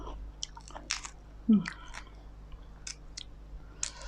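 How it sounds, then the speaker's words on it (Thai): Crunchy chewing of a hard-shelled red food, close up, with repeated sharp crunches and bites spaced across the clip and one louder crack in the middle. "พี่น่วยนี่คือกรอบ อันเปลือกแข็งแท้เนี่ย"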